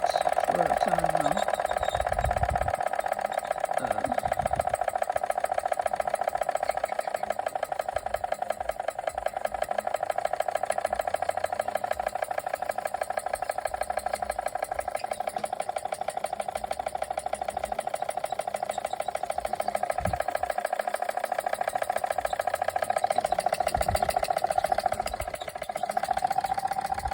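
A Machinator Steamfire steam engine runs slowly with a steady, close mechanical hum and rhythmic rattling, continuous and even throughout, with a brief voice near the start.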